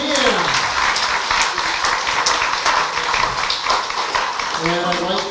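Jazz concert audience breaks into loud, dense applause, a sustained wash of many hands clapping close by, with scattered whoops and voices calling out over it.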